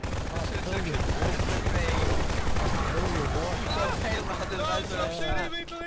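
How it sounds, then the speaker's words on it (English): Rapid gunfire rattles in Garry's Mod during a Half-Life 2 roleplay session, dense continuous bursts layered under excited, overlapping voices throughout. "stop shooting me, please!"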